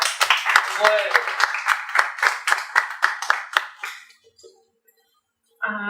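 Audience applause for Professor Inami Custódio Pinto, a researcher and composer: a few seconds of hand clapping with a voice over it, fading out near the end before a brief burst of sound.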